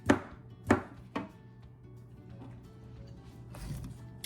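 A knife cuts up a pan of leftover sour cream noodle bake, three sharp close chops in the first second and a quieter one later, followed by soft scraping and low kitchen hum.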